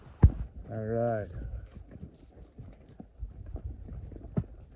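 Horses clip-clop on a rocky mountain trail during a mule deer hunt, hooves knocking irregularly close by, with one horse snorting or whinnying briefly early on and people talking quietly.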